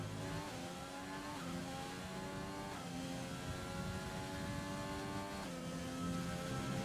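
McLaren race car from the game F1 2020 screams along a flying lap at the Russian GP, a loud, steady high-revving engine with rising pitch sweeps at each gear change and no pauses.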